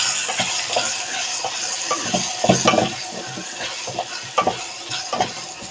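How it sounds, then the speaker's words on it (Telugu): Garlic fries in a pan for a bottle gourd curry, with loud close sizzling and crackling broken by repeated stirring scrapes and light utensil knocks. "వెల్లుల్లిపాయ కూడా చక్కగా ఫ్రై అయిపోయిందనమాట."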